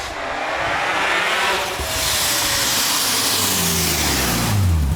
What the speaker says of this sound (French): Donc là, j'embraye, je mets première, launch control.